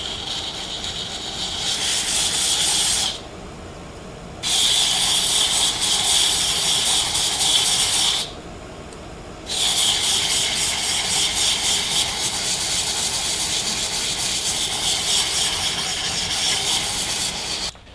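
Sandpaper rubs against a wooden goblet spinning on a lathe, giving a steady close hiss of abrasion that drops away briefly twice before carrying on, with the lathe's hum beneath.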